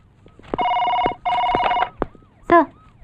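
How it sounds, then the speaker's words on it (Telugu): A telephone rings in two long, loud bursts close by, each a steady electronic trill, followed by a brief voice and a short sharp sound. "సార్, మీకు ఫోన్."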